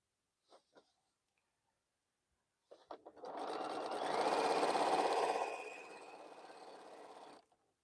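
Sewing machine stitching quilt fabric pieces, a steady whirring run that builds, peaks and eases off over several seconds, preceded by a couple of brief clicks.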